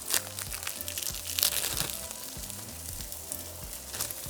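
Beef burger patties topped with melting cheese sizzle steadily in a hot pan, with a broad crackling hiss and occasional louder spits and pops close by, no talking.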